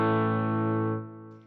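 An electric guitar chord played through a Boss GT-1 on the combo crunch preamp rings out with a thick, mildly distorted sustain, fading after about a second, heard alone without talk.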